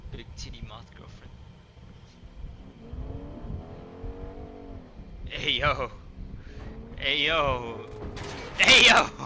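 Truck engine in a video game revs in rising and falling surges, getting louder toward the end, mixed with other game noises while players talk over it.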